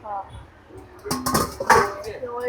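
Metal plates clatter and clink as they are handled in a Kandivali East utensil shop, with several sharp bright knocks close by amid shoppers' talk.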